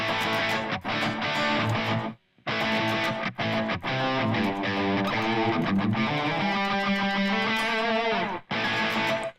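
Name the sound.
clean electric guitar through TONEX pedal, reverb off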